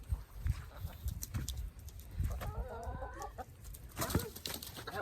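Chickens being chased in a yard give off scattered clucks and agitated squawks, with a short run of rapid clucking in the middle, amid footsteps and rustling. The sounds are moderately close but faint overall.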